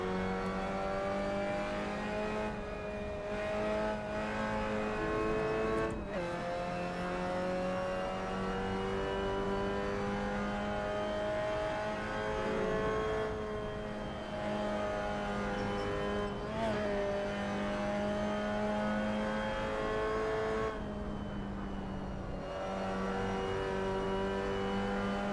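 Mazda MX-5 Cup race car engine in a racing video game, droning steadily through long throttle pulls on a track with brief dips at gear shifts, continuous and fairly loud with no talk.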